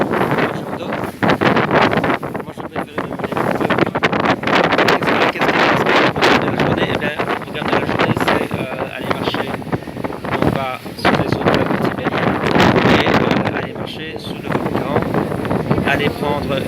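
Strong wind on a boat buffets the microphone in a steady roar, with flapping gusts and faint voices underneath, out on open water.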